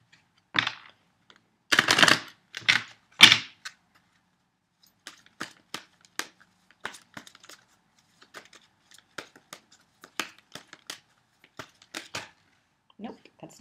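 Tarot cards being shuffled and handled, a few loud riffling bursts near the start followed by scattered soft clicks and card slaps.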